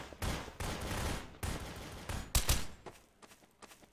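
Gunfire in the video game Trouble in Terrorist Town: several bursts of rapid automatic shots crackle at moderate distance, separated by short pauses, then a few sharper single shots and lighter clatter trailing off.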